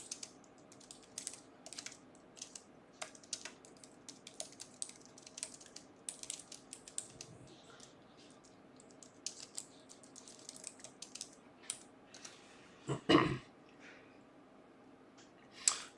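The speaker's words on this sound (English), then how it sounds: "I'll type in the chat too to let everyone know" Keystrokes tapping on a computer keyboard during a live game update stream, a light irregular patter of quiet clicks spread through a still room, with a sharper burst of louder handling clatter near the end.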